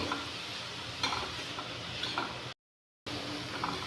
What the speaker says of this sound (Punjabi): ਹੁਣ ਆਪਾਂ ਪਾਵਾਂਗੇ ਟਮਾਟਰ ਹੁਣ ਆਪਾਂ ਇਹਨੂੰ ਚੰਗੀ ਤਰ੍ਹਾਂ ਭੁੰਨ ਲਾਂਗੇ